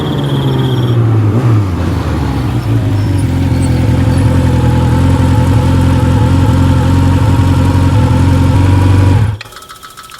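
A motorcycle engine runs loud and close with its exhaust pipe fallen off, a raw, harsh steady drone for about nine seconds before cutting out abruptly near the end.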